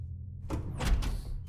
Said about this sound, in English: I have a feeling something's going to happen as soon as I open this door.